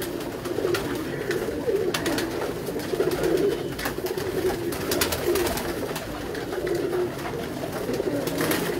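Fancy breed pigeons coo in repeated soft, throaty phrases, fairly close and rhythmic, with a few sharper bird calls mixed in and no talking.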